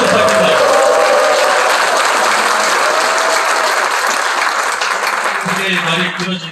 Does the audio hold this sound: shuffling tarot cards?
no